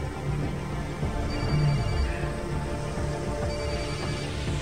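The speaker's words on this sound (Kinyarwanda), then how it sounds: "Ari telefone iri gusona." A telephone ringing with faint, steady electronic tones over a constant low hum.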